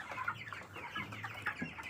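Backyard-raised chickens cluck steadily at close range, with several overlapping calls and no talking.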